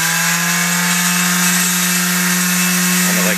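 A sander grinds the outer ring of a wooden cryptex, a loud steady motor whine with a constant hum and abrasive rubbing, close and continuous.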